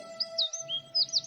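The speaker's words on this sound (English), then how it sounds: "Kingfisher, kingfisher." A kingfisher gives a series of sharp, high chirping calls in quick bursts over a faint steady tone, clear and fairly close.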